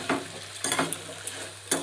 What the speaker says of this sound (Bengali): আলুটা আমার ভাজা হচ্ছে